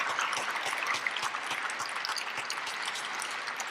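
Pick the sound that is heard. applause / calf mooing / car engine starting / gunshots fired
applause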